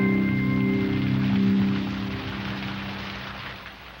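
Rain falls in a constant, close wash of hiss that fades gradually over a few seconds, with a low sustained hum underneath and no voices.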